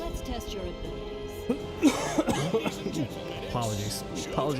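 A streamer coughs and clears his throat a few times at close range during a live stream of the fighting game Skullgirls, with game sounds and speech around it.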